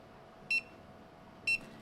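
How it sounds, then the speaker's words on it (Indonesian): Two short, high electronic startup beeps from a Segway Ninebot E2 Pro electric scooter, about a second apart, clear against a faint steady hum. "ada logo Bluetooth Crab Clip dan ada suara beep."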